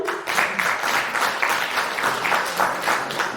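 Audience at an HIV and AIDS reduction project workshop held by a Rotary Club in Siaya, clapping steadily in a sustained round of applause that fills the room at close range, with no voices over it.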